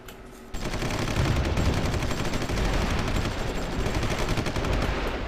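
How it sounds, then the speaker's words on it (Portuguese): Artillery rattles without a break in the strategy video game Supreme Ruler Ultimate, a dense, loud barrage of rapid bursts that starts abruptly and keeps going. "Tem muita artilharia aqui"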